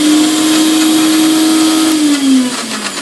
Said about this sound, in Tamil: இதெல்லாம் சேர்த்து மிக்ஸியில் அடிச்சுக்கலாம்.